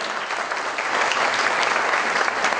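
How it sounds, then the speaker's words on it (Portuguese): A crowd at a mayors' meeting applauds steadily, dense clapping that swells slightly louder after the first second and holds. "Palmas para a Isabel."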